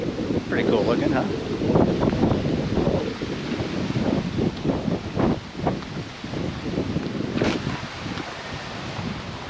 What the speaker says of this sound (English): The wind's blowing, but it's pleasant